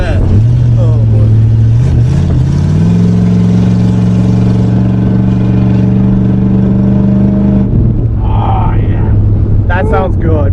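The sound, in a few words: Mini Cooper with straight-piped exhaust idling on propane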